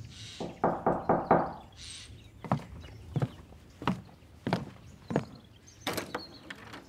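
Knocks land on a door, first a quick burst of four raps, then single heavy thumps spaced about a second apart, close and sharp in a quiet room.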